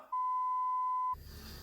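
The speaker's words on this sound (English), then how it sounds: "Beep." A single clean electronic beep tone, loud and steady for about a second, cutting off abruptly into faint room noise.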